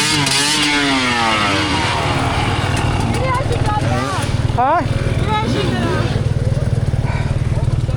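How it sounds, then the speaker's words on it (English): Dirt bike engines roar and rev loudly nearby at a hard enduro race start, pitch rising and falling repeatedly, with a brief voice breaking in over the engine noise. "So hard to hear with everyone revving around you."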